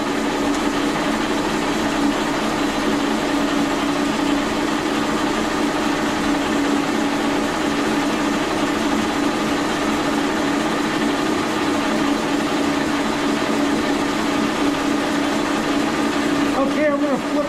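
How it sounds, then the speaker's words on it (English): A milling machine runs a 3/4 inch two-flute end mill at 710 RPM, giving a loud, steady, continuous whine and hum with no break throughout. "3/4 inch 2-foot end mill. Running at 710 RPM."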